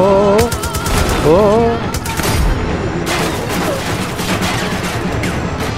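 Rapid bursts of gunfire in the video game Far Cry 5, loud and continuous, with dense volleys and sharp overlapping shots; a voice briefly sounds near the start.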